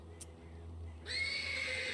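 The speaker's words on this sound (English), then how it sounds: "The persistent neighing of a horse can be heard from the stables." A horse neighs from a stable in the video game Black Book, a sudden bright whinny that starts midway and holds over a low ambient hum, fairly close and moderately loud.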